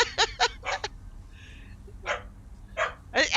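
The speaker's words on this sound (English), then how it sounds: "That's 2 barks!" Sharp barks from a dog in the game Elder Scrolls Online, Clockwork City area, come in quick bursts spaced across a few seconds, with a faint tonal chime in between.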